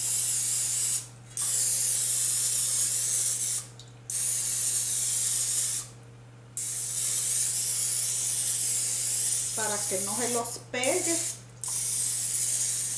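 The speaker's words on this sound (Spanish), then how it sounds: "Entonces ahora vamos a estar agregando spray. Le vamos a estar agregando aquí al moldecito." Vegetable oil cooking spray hisses into a small mold in several separate bursts, loud and close, with someone speaking Spanish between the later bursts.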